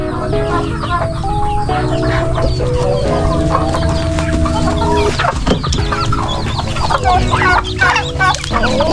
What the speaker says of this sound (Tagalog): Ito po, manok naman to.